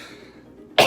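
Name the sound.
cough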